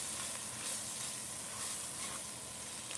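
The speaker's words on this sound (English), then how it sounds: "Let's go and stir that flour in." Flour stirred into a hot pan of chicken spaghetti base, giving a steady, close hiss of sizzling fat with faint scraping from the stirring, and no talk.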